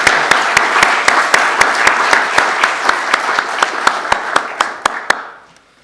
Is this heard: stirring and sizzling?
no